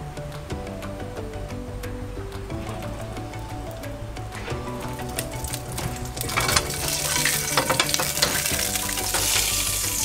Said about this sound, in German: Das erste Stück gebraten